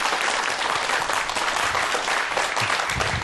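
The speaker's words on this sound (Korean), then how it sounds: "큰 박수로 환영해 주세요" A studio audience on a YTN Science programme gives a loud, dense, steady round of applause to welcome the CEO of a men's shapewear company.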